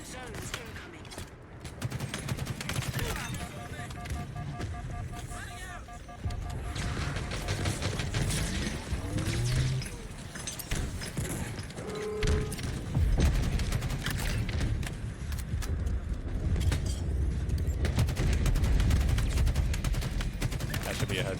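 Gunfire in an online multiplayer shooter match, scattered shots and bursts mixed with game effects, announcer-style voice lines and a person talking, busy and layered throughout.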